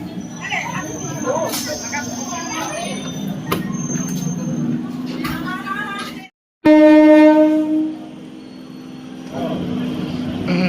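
An EMU local train pulls out of platform 1 at Panskura station. A rising electric motor whine sets in after a brief cut and follows crowd noise and talk.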